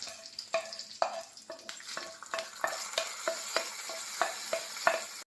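Fenugreek and curry leaf tempering poured into mango pulissery, with a loud sizzle followed by rhythmic stirring strokes and scraping close by, repeating steadily without talk.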